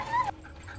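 A dog gives a short, high, thin whimper up close, a single whining note lasting a fraction of a second over faint low background hum.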